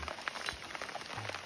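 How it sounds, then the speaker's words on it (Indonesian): Rain falls outdoors during a meal as a steady patter of drops on surfaces, soft and continuous, with a few louder nearby taps. "Hujan lebat ini bang."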